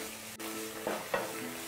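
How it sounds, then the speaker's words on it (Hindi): Bathua greens being stirred and roasted in oil in a pan over slow-medium heat for a Rajasthani kadhi, a soft steady sizzle with a few scraping stir strokes, no talking. "मैं इसको स्लो मीडियम पे भूनूंगी।"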